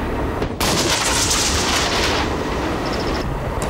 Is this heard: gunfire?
yes